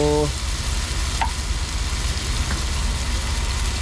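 Sardines sautéing with sponge gourd (patola) in a pan, a steady loud sizzle and crackle running continuously with a few faint clinks.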